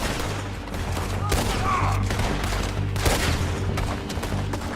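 Rapid gunfire from a shootout in the video game Red Dead Redemption 2: dense, overlapping volleys of shots fill the whole stretch at a steady loud level over a low rumbling game backdrop.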